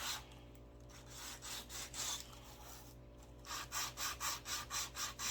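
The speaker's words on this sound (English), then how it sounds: "Sand that piece that we just cut." Sandpaper rubs back and forth over a freshly cut craft piece, roughing the surface before painting; steady, close rasping strokes, speeding into a quick regular rhythm in the second half.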